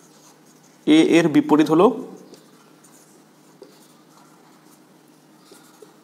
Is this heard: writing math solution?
yes